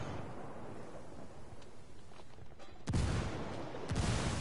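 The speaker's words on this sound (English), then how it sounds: "Grenades flying at me." Grenade explosions in the video game Ghost Recon, two heavy booms a second apart breaking through a low rumbling battlefield backdrop, loud and close.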